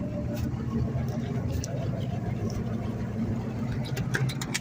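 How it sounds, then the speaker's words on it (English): A truck engine idles at close range as the vehicle creeps forward, giving a steady, continuous low rumble with a little mid-range clatter and no marked change in pitch. "Get back to pull the truck up here a little bit now."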